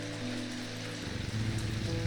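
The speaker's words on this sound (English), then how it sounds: "ooh, it's raining." Steady rain falls in the video game Strange Antiquities, an even wash of patter on surfaces with faint game music tones underneath.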